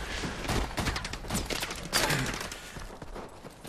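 Sporadic gunfire in a shooter video game, sustained shots and crackle from a firefight at mid distance, continuous and fairly loud through the short stretch.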